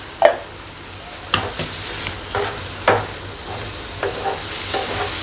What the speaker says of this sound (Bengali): অল্প জল দিয়ে দেবো, দিয়ে আমি আবার একটু নাড়িয়ে নেব।